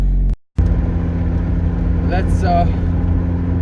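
A car fitted with a 2.0 Genesis engine on a test drive, its steady low engine hum and road noise continuous after a brief dropout, with someone speaking briefly over it.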